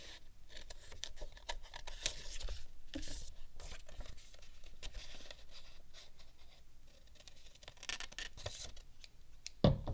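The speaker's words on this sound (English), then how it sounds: "take your scissors and cut a circle" Quiet, close snipping and paper rustling as scissors cut a circle from folded paper, irregular little cuts and scrapes running throughout with no talk.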